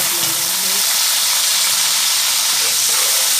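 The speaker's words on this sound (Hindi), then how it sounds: "अब उसी घी में प्याज डाल देते हैं।" Sliced onions drop into hot ghee left from frying, for a bitter gourd and potato curry, giving a loud, steady hiss and sizzle that holds evenly throughout with no talk.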